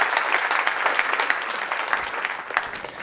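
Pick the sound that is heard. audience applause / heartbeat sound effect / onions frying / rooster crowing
audience applause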